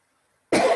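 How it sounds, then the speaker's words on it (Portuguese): After a moment of silence, a single sharp cough with a rough throat-clearing quality bursts out close by during an online class. "tá dando um pigarro na garganta danada aqui"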